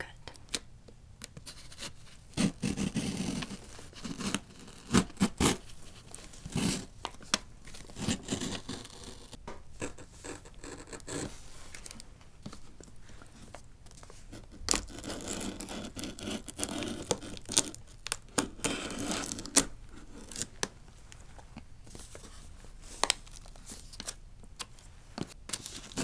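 A package is cut open for an ASMR unboxing, with close, crisp scratching and slicing strokes and scattered sharp clicks spread over the stretch, under intermittent soft-spoken talk.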